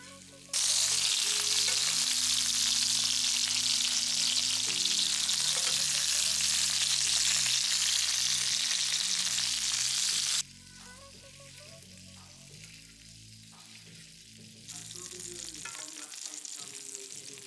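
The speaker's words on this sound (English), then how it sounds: "Lightly oil the pan and place the thighs skin side down." Chicken thighs fry skin side down in a lightly oiled pan, a loud, dense sizzle that fills the first ten seconds before dropping to a softer crackle and then rising a little again.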